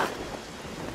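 Rain falls in a Genshin Impact game scene as a dense, steady hiss with a low thunder rumble underneath, heard alone for a brief moment.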